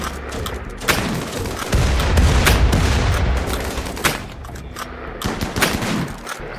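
Gunfire in the game Mountain Base Builder, repeated sharp shots and bursts of rapid fire close by, loud and uneven in rhythm over a constant background rumble.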